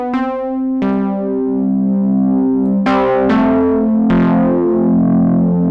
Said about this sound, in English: For starters, it says that it has a tube kind of distortion.